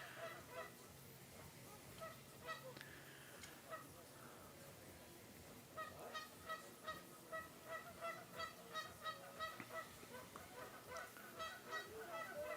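A flock of geese keeps honking in the background at an outdoor 100-mile ultramarathon championship, the calls sparse at first, then building into a dense rhythmic series of quick honks, faint and distant.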